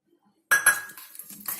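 Metal spoon clinks sharply against a bowl, stirring a spice and yogurt marinade with red chilli powder, ginger and garlic for paneer tikka; a few close, bright scrapes and taps in quick succession.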